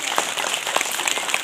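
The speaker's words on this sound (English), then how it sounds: "Please clap your hands." Brief burst of clapping from a school audience as a half-yearly exam result is announced, a busy patter of many hands heard up close with no talking over it.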